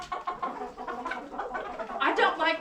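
Backyard chickens cluck and murmur close by in a busy, overlapping stream of short calls, growing a little louder toward the end, with no talking.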